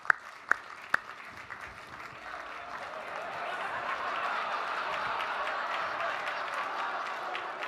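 A comedy-show audience votes by applause for "a man's world": a few sharp early claps grow into sustained crowd clapping with scattered chuckles, building in the middle and holding steady.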